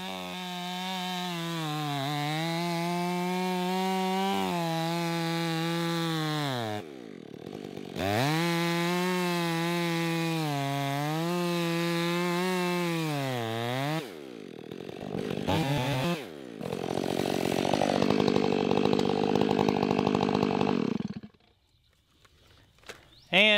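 A chainsaw cuts into a huge tree stump, its engine revving in long rising and falling surges with brief cutoffs, then a rougher, louder grinding bite before it drops away near the end.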